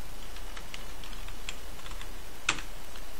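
Light keystrokes on a computer keyboard while entering a formula in a spreadsheet, a sparse scattering of soft clicks with one sharper tap near the end, over a quiet steady room hum.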